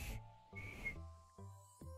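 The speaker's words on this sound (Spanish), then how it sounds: "Perro callejero, le silba." A person whistles at a stray dog on the street, giving a faint, short whistle tone amid soft hissy breaths and quiet background hum, with no talking.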